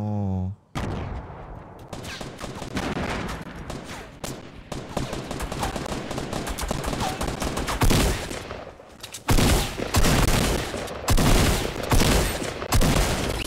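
Shotgun fire in a Fortnite match, with heavy blasts and rapid bursts of shooting close and loud, plus a short pause partway through before the firing resumes.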